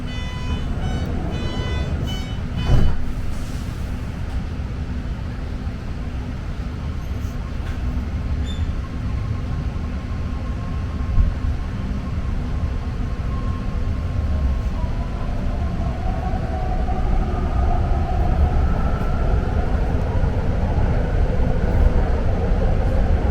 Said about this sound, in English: This is a red line train to Millbrae.